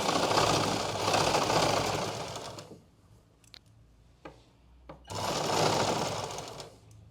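A sewing machine stitches elastic into palazzo pants in two loud continuous runs, with a pause of a few faint clicks and handling noises between them.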